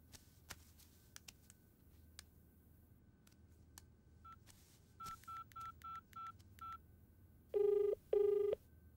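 A telephone dials a call in a quiet room: a few faint clicks, then six short, evenly paced keypad tones, followed by two louder, longer tones.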